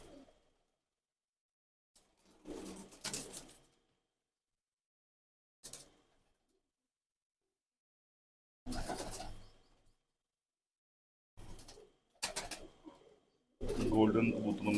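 Pigeons in a breeder's loft, golden-type birds among them, give short cooing bursts spaced by silences, growing denser and louder toward the end.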